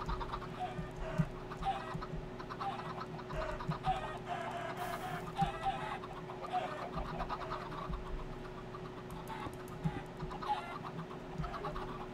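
Chickens cluck in a mining and building video game, their calls repeating steadily over a low engine-like hum and faint background noise.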